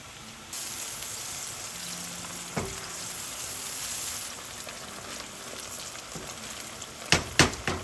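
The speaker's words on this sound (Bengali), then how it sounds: "এখন আমি এতে দিয়ে দিব একটু আদা রসুনের পেস্ট" Ginger garlic paste dropped into onions frying in a pan, a steady close sizzle that swells as the paste goes in, then a few sharp clatters of a spoon near the end.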